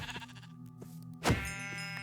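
A single sheep bleat in a video game, a short, clear wavering call that rises out of quiet background game music, heard alone without speech.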